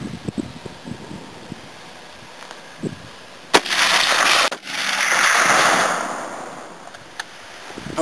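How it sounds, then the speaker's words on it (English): Rifle or gun shots at an outdoor target shoot: a few sharp, loud cracks spaced several seconds apart, each followed by a rush of wind noise against the microphone, with no talking. "I'm gonna shoot right below it."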